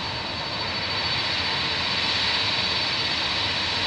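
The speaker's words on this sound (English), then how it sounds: "So a quick recap on this one's British Airways Airbus A320-200 going to Heathrow." British Airways Airbus A320-200 jet engines whine steadily as the airliner taxis, a continuous high-pitched hiss and rumble heard from a distance without pause.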